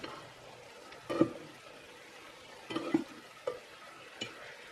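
Pinakbet vegetables stirred in a cooking pan, a few separate scraping, sizzling strokes with quiet moments between them.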